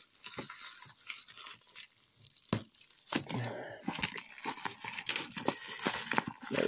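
Diecast toy packaging is cut and torn open close up, with irregular crinkling, ripping and scraping bursts of plastic and cardboard separated by short quiet gaps.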